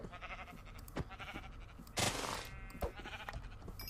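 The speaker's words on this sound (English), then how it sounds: "Oh, sheep, you're mine." Minecraft sheep bleat in the video game amid soft in-game clicks and thuds, one louder bleat standing out midway over a low, busy background, with no talk.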